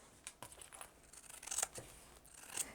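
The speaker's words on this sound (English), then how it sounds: "Trim up the side of the pocket" Scissors trimming fabric along the side of a pocket while sewing a recessed zipper on a tote bag, giving quiet, crisp snips in short bursts with small pauses between cuts, close and alone.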